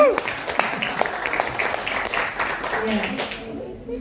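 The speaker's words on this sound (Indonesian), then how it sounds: "tepuk tangan untuk Dewan Juri kita" Applause for the jury at the FLS2N 2024 short film competition judging: a sustained crowd clapping that fades out toward the end, with a voice speaking over it.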